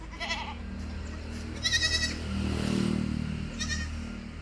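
A Malabari goat bleats three times, short wavering calls spaced apart, over a steady low engine-like hum in the background.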